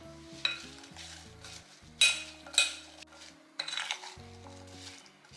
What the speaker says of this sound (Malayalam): ഇത് നല്ലപോലെ ഒന്ന് മിക്സ് ചെയ്യാം